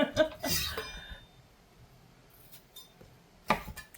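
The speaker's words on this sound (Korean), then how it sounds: "가지를 이렇게 대충 자릅니다" An eggplant being roughly cut with a knife in a home kitchen, giving a few sharp clicks and scrapes near the start and another brief knock of the blade near the end, with quiet gaps between.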